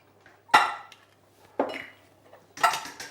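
Roast chicken ingredients with garlic and olive oil stirred in a baking dish, three distinct clinking scrapes of a utensil against the dish, close and evenly spaced about a second apart.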